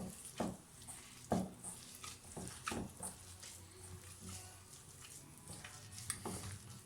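A spoon stirring a cheese filling batter for börek in a bowl, with repeated soft scraping strokes in an irregular rhythm, close and quiet over a faint background hiss.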